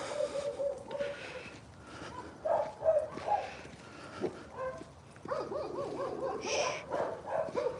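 Several dogs barking back and forth in rural Russia, distant and mid-range yaps and woofs overlapping in bursts, with birds calling faintly in the background.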